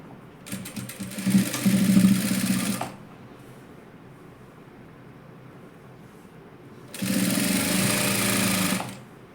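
A sewing machine stitches the full length of a folded dress hem in two loud, steady runs of about three and seven seconds, with a quiet pause between them.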